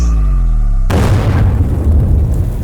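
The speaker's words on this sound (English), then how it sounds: "The deafening sounds of gunfire and exploding grenades shattered the silence" A loud boom bursts out after a tonal hum, followed by a sustained rumbling roar of blasts and crackling fire.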